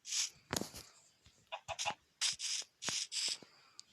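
A video game chicken clucks in several short, sharp bursts across a few seconds, close and fairly loud, with brief gaps between calls.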